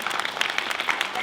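An audience at an evening event claps in a dense, even patter that carries at a steady level for the whole moment, with crowd noise mixed in.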